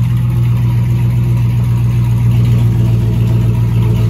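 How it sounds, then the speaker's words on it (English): A 2007–2013 Chevrolet Silverado pickup, lowered and with its gas tank relocated, idles just after starting: a loud, close, steady low engine drone with an even hum throughout and no talking. "The truck turned on."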